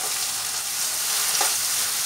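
A mustard fish curry with small mourala fish sizzles loudly and steadily in a pan while it is stirred. The constant hiss is close and continuous, with faint scrapes of the stirring beneath it, and no voices.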